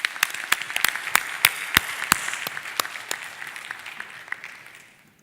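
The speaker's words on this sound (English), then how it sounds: "could everyone just sort of give a big round of applause to our two debaters" Audience applause for two debaters at a urology conference session, a moderate round of clapping with sharp individual claps standing out, fading away toward the end.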